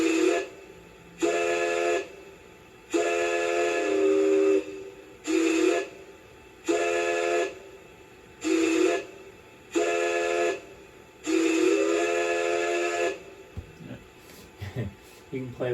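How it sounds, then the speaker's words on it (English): LGB Mogul 21181 model steam locomotive with an ESU sound decoder blowing its whistle in a series of loud chime blasts, some long and some short, each clean and separated by brief pauses, with a few clanks at the end. "F2 is the whistle. Under DCC, it's really kind of cool because it's a dynamic effect."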